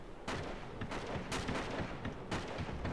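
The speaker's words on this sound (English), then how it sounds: "I'm gonna drop two grenades" Explosions and gunfire in the video game Uncharted 3 arrive in several dense, loud bursts over three seconds, crackling and booming close by.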